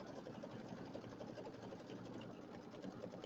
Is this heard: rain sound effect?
no